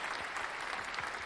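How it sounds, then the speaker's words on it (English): A short burst of dense, steady clapping for a podcast guest, uniform and close. "Clap for our guy, Jason."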